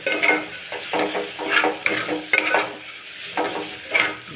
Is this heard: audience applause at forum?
no